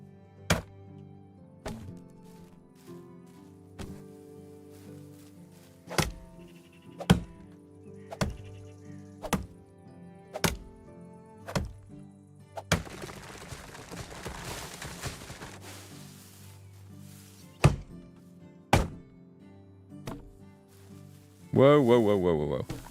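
Axe chopping trees in the medieval survival game Medieval Dynasty: loud, evenly spaced wooden thunks repeat about every second, pausing midway for a rustling crash of a falling tree, then a few more strikes; a voice talks faintly underneath.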